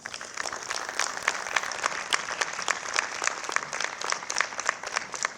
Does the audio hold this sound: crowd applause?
yes